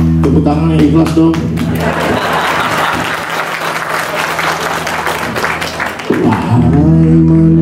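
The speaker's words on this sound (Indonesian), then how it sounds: "Tepuk tangan yang ikhlas dong" A hall audience at a religious gathering bursts into sustained applause, dense clapping swelling between musical tones, then fading as the music resumes near the end.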